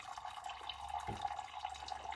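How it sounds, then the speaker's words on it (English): Water is poured steadily into a cup, producing a continuous soft trickling splash that stays close and even throughout. "and then I start pouring some water through"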